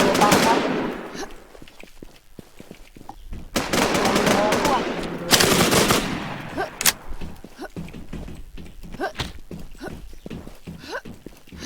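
Bursts of rapid automatic gunfire in the game Infestation crack loudly in close volleys, then give way to scattered single shots and footstep-like thuds.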